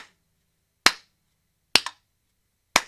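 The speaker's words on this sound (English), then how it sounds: "if you hear the metronome click after my clap, you'll know I'm rushing" Three crisp, isolated hand claps about a second apart in a quiet room, the middle clap followed closely by a faint metronome click.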